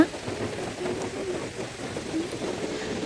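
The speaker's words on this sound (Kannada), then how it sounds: "ಇವತ್ತು ಹೊರಗಡೆ ವೆದರ್ ತುಂಬ ಚೆನ್ನಾಗಿದೆ, ಹಾಗೆ ಮಳೆನೂ ಕೂಡ ಬರ್ತಾ ಇದೆ" Steady rain falling outdoors by a garden, a soft, even hiss of drops with no breaks, fairly faint and distant, with no voices.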